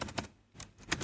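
Keys tapped on a computer keyboard while entering a task into a web to-do app, heard as a few quick clusters of clicks with a short pause in the middle, close and fairly quiet, no talk.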